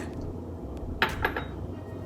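Brownie batter of eggs and vanilla mixed in a bowl, a quiet background hum broken by a few light clinks of a utensil against the bowl around the middle.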